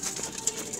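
Domestic pigeons coo softly in a loft, a low continuous murmur with brief faint bird calls and a little background voice.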